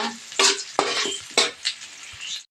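Garlic, onion and ginger being sautéed in a pan, with a few sharp stirring scrapes and clinks over a bright sizzle that rises and falls, nearby and fairly loud.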